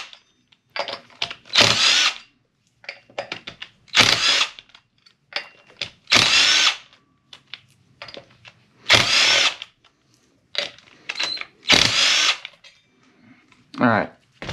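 Power drill backing out the brake rotor screws on an electric scooter wheel, about a dozen short whirring bursts separated by pauses, close and loud, with brief talk between them.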